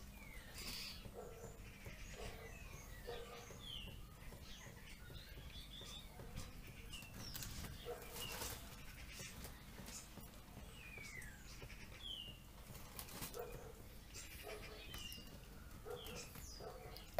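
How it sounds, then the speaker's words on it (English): Garden birdsong outdoors: scattered chirps and tweets from several small birds, faint and fairly distant over a steady hiss of ambient background. "people like all the birdsong"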